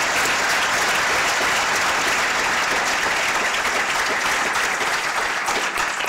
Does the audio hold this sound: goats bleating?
no